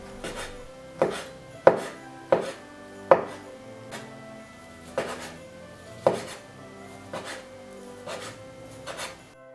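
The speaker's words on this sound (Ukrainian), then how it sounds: "Далі я нарізаю невеличкими шматочками відварене куряче філе." Knife chopping boiled chicken fillet on a board into small pieces, a series of sharp, close thuds at an irregular pace, about a dozen cuts with no talking.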